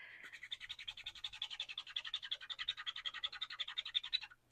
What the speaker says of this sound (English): I am going to give it a good rubbing with my cotton cloth here.